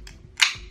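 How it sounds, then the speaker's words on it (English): An energy drink can cracks open in a single sharp pop and hiss near the microphone. It is a brief, loud burst set over a quiet background. "A lot harder to crack this can open."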